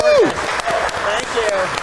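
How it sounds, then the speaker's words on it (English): Applause for Retro Rewind from a small group, broadband clapping over about two seconds, with whoops and excited voices cheering on top. "Everybody give Retro Rewind a big round of applause"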